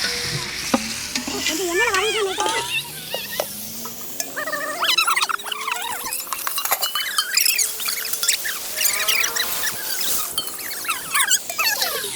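A metal spoon stirs and scrapes through biryani in a cooking pot, with steady sizzling and rapid clinking scrapes running throughout, close and fairly loud, with no talking.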